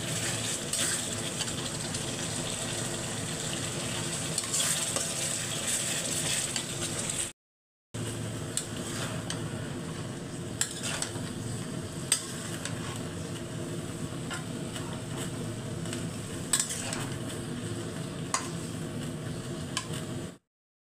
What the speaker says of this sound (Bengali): এই যে তরকারি মশলাগুলো কষে নিচ্ছি।